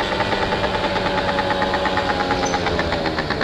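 A 50cc scooter engine during a wheelie gives a loud, close, rapid pulsing buzz with a knocking, vibrating texture that holds steady for a few seconds, with no talking.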